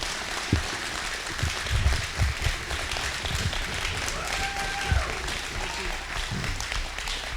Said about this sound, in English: We'll give him another round of applause here real quick.